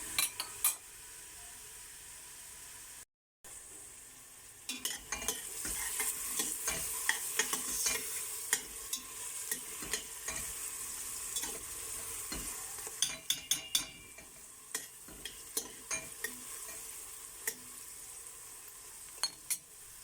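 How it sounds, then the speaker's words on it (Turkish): Chopped onions sautéing in a pot for a Turkish kömeç kavurma, a steady close sizzle with frequent sharp scrapes and clinks of a spoon stirring, heard alone with no talking. "Soğanımı bir güzel kavuracağım öncelikle."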